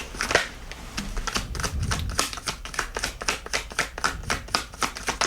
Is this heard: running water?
no